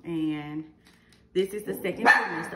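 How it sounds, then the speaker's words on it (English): A pet dog barks loudly a few times, breaking in around a woman's speech, with an opening bark followed by sharper yips. "excuse my dog, y'all."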